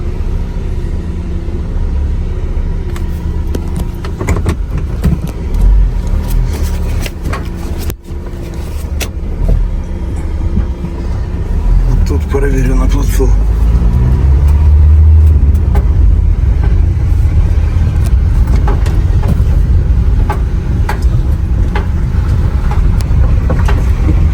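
A 2020 Renault Master L2 H2 van with 135,000 km drives along with a loud, steady low engine and road rumble, wind and cabin noise building midway, with no talking.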